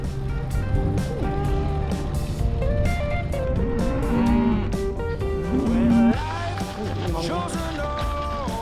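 Cattle moo over steady road or engine noise, with a few drawn-out bovine calls rising near the middle, fairly close.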